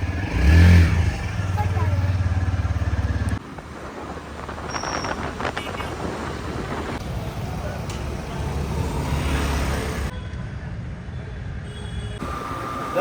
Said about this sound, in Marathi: गाडी घेतली आता चाललोय घरी